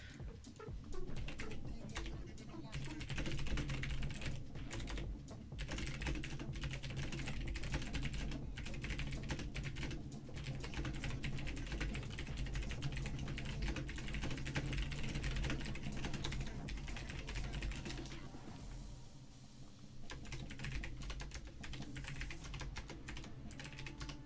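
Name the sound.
typing quickly on a computer keyboard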